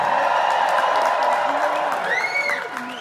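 A large crowd at a Pierre Poilievre political rally in Oakville, Ontario cheers and applauds in a steady, loud wash, with whistles and whoops rising near the end.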